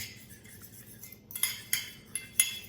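Utensil scraping and clinking against a bowl while mixing flour, egg and breadcrumb breading for chicken, a soft stirring patter followed by four sharp, close clinks spaced at regular intervals.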